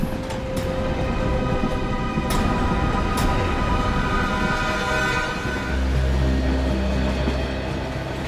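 A passenger train running on rails, with a steady loud rumble, metallic rolling noise and a few sharp clicks, continuous throughout with no voices.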